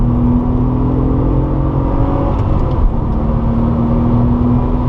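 A Porsche 997 Targa 4S engine drones steadily at high revs on the Circuit de Bresse race track, a continuous close whir with a slight rise in pitch as it accelerates, no pauses throughout.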